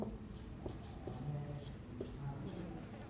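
Chemistry equation being written on a classroom board, soft scratchy pen or chalk strokes in short bursts, faint and close, with a teacher talking throughout.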